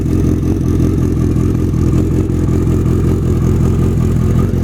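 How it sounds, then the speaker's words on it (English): A 1986 Yamaha FJ1200 motorcycle running through a Supertrapp 4-into-1 muffler, idling loud and close with a rapid, even exhaust pulse and mechanical clatter that hold steady throughout. "Super Trap 4-into-1 muffler."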